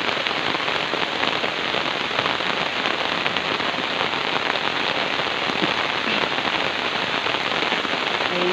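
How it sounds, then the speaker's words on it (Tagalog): Heavy rain pours outdoors during a hunt near a cave, a dense, loud, constant hiss of drops pelting surfaces with no voices. "Ayan, lakas po ng ulan."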